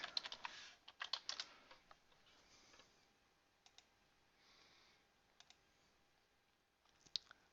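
Username and password being typed on a computer keyboard: a faint flurry of close key clicks at the start, then scattered single taps and a final few clicks, quiet and alone in a soft room hiss.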